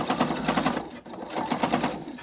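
A sewing machine runs in two quick bursts of rapid, rhythmic stitching over bulky fabric mask pleats, with a brief pause between runs, loud and close with no talk.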